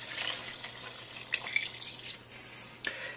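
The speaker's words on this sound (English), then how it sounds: "Now we're going to pour back that chicken broth that we saved in the first step." Chicken broth pours and splashes into a pot in a steady close trickle, with a few small clinks and drips.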